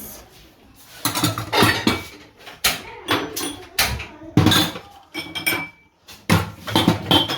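Plates and dishes clattering and knocking during dishwashing, a busy run of close, irregular clinks and thuds with brief pauses, faint voices in the background.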